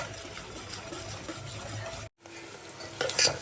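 Garlic and onion tempering sizzles in hot oil in a pan, a steady close frying hiss that cuts out briefly and then returns brighter and louder.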